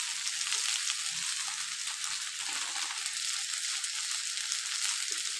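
Colorful mixed vegetables fry with Kashmiri and red chili powder while being stirred in a pan, giving a steady close sizzle throughout with occasional soft scrapes and no talk.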